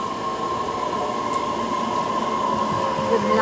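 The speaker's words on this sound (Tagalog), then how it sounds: "Riding a train." A local commuter train in Japan at rush hour, heard from inside a car, gives off a steady rumbling drone with a faint metallic whine, continuous and fairly loud throughout.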